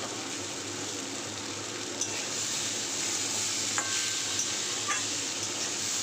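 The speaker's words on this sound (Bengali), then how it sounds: "এবার দেখো সেরা কাঁচা লঙ্কাগুলো দিয়ে দেবো" Green chillies sizzle in hot oil with onion, turmeric and potato in a pan, a steady close frying hiss broken by a few faint clinks of stirring.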